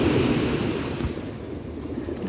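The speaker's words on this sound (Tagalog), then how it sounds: "Pakinggan nyo po yung daloy ng yung tubig, yung hampas ng tubig." Strong sea surf breaks on a shoreline where fishing boats are moored, a loud broadband roar and wash of water with wind rumble on the microphone, continuous throughout the short stretch.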